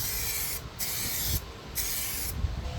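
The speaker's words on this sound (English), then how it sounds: "We're going to do 2 or 3 quick even passes of clear coat on this part" Clear coat sprayed in three quick, even passes over a carbon fiber Lexus RCF door part during a delamination bubble repair, each steady hiss broken by brief pauses, close and loud with no talk.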